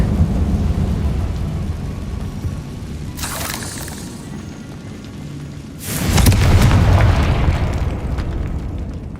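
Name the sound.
explosion spell blast in Hogwarts Legacy video game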